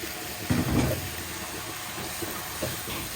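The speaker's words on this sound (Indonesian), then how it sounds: "Kita tumis lalu masukkan bumbu halus." Ground spices and meat sauté in a pan, giving a steady hissing sizzle with a brief louder burst of frying and light stirring noises, no talking.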